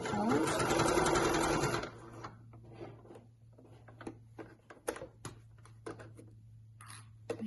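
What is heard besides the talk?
sewing machine stitching through apron fabric layers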